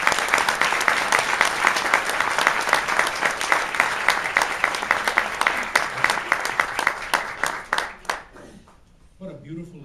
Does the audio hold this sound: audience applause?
yes